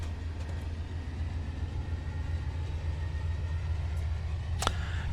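A BNSF freight train runs toward San Bernardino in Train Simulator 2013, a continuous low rumble of engine and rolling wheels with a faint steady tone above it and a brief sharp clank near the end.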